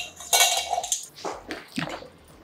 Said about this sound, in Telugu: ముందైతే గిన్నె నీళ్ళల్లో పెడతాను.